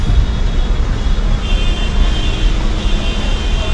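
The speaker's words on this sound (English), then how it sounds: "It's traffic jam now." Congested street traffic in Yangon makes a dense, continuous roadway roar of idling and creeping vehicles, loud and steady throughout, with no clear voices.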